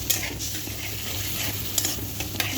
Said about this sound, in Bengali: তো এটা দিয়ে একটু কষাবো